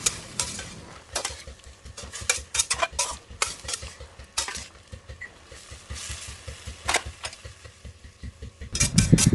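Bean sprouts stir-fried with pork blood in a pan, a steady sizzle broken by repeated scraping and clanking of the utensil against the metal, loud and close, with no talking.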